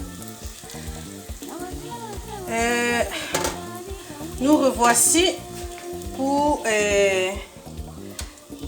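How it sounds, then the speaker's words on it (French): Kefir-dough beignets sizzling in hot oil, a continuous crackling fry heard up close with bursts of louder bubbling as dough goes in, while someone talks in French over it. "la friture de nos beignets"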